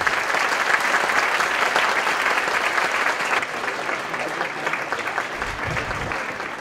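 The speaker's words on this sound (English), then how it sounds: "How about a round of applause for all of our five science presenters?" A sustained round of applause from an audience fills the room, steady and dense, easing slightly toward the end.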